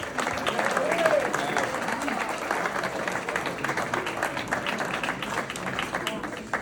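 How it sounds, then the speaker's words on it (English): A wedding reception crowd claps steadily in sustained applause, with a murmur of voices mixed in. "can we please have a round of applause for Vasiliki and Lewis?"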